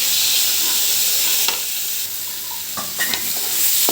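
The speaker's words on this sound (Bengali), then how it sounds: "এখন আমি মশলার সঙ্গে আলুটাও দিয়ে কষিয়ে নেব।" Spices and diced potato frying for a chickpea curry, giving a loud, steady sizzle with a few scraping stirs over it; no talk.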